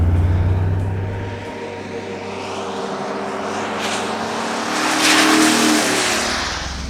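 A 2015 Mercedes G 63 AMG driven on a race track, heard from inside as a steady, loud engine drone that swells as it accelerates toward the end, with road and wind noise throughout.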